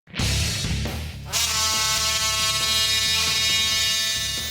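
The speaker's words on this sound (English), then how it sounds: "this plate marker is basically a computer-controlled engraver" A computer-controlled plate marker with a carbide tip engraves metal, giving a steady, loud, high buzzing whine with harmonic tones that starts abruptly, shifts pitch once and then holds close and continuous, with no voices.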